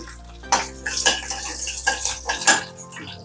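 Mustard seeds, chana and urad dal, curry leaves and cashews temper in hot oil for ragi upma, with quick clinking spoon-on-pan strokes and light crackling sizzle up close.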